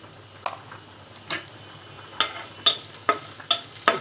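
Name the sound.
onions frying with panch phoron and cumin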